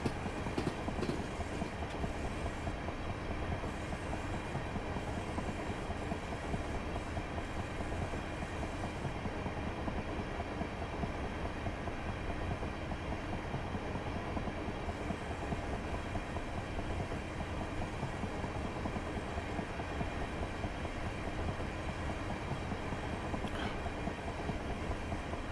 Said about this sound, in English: Long train for a late night service.